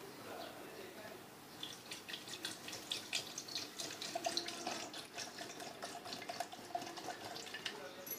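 Water pours into a blender jar holding sugar, salt and ice for a plum and cherry sharbat. It makes a soft, faint, continuous trickle and splash at close range.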